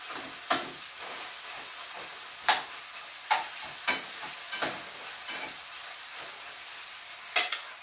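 Garlic frying in a pan for a beef stir fry, with scattered sharp sizzling bursts over a quiet background and several louder crackles spread across the span, with no talking.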